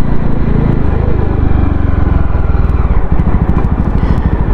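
A Jawa 300 motorcycle engine thrums close by on a test ride, a steady loud mid-pitched rumble with slight throttle rises and no speech.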